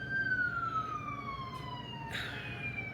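A distant siren wails in a slowly falling tone over steady road noise, with a brief burst of hiss near the end.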